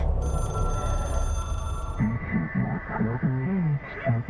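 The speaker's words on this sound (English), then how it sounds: "Hello, my dear hotline phone." A hotline phone rings in the video game Control, a steady electronic bell tone under an eerie drone, followed by a low voice speaking over the ringing toward the end.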